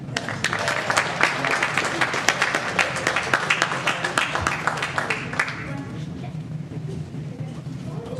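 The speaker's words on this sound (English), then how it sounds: "Let's give them another round of applause, please." A room full of people at a Board of Education meeting applauds its honorees, with dense, steady clapping that carries for several seconds before thinning and fading out, with talk underneath.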